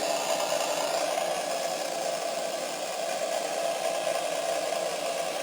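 A speaker module on a Redcat Kaiju 6s RC truck plays a simulated engine sound, a steady, even, hissy drone at moderate level that holds without revving or pauses.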